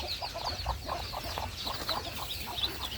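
Chickens cluck continuously in a busy flock in a pen, overlapping short clucks close by with steady outdoor background noise.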